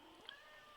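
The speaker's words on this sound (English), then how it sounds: "So I'm sorry if you can hear the cat meowing." Faint, distant meows from a house cat in a crafting room, two brief high calls against a steady low background hum.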